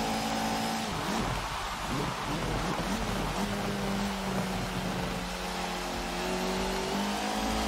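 Touring cars race in the video game Forza Motorsport 7, with a steady engine drone rising and shifting in pitch over constant road and tire hiss, sounding fairly distant and compressed.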